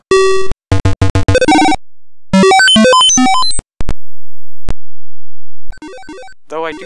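Loud retro electronic beeps, chirps and quick rising and falling tone runs from the Mac game Crystal Quest play in short separate bursts with gaps of silence between them.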